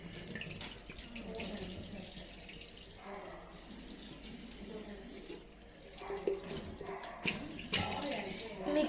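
A glass jar, soaked in soap water, is washed under a running kitchen tap; water gushes and splashes unevenly close by, with someone speaking over it at times.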